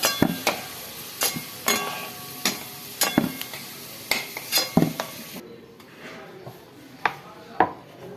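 Potatoes fry in a pan for chicken kosha, with a steady sizzle under repeated sharp scrapes and clinks of a spatula against metal, close and fairly loud, with the hiss dropping away partway through.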